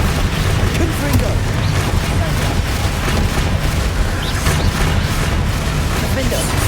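Confringo blasting spells set off explosions during a Hogwarts Legacy fight on Xbox Series X. Rumbling booms and bursts run continuously and loudly, overlapping with someone talking.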